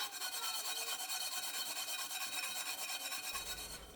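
Scrubbing a burned pot clean, a continuous rough, rapid back-and-forth rasp held at steady loudness right up close, with a short rumbling shift near the end.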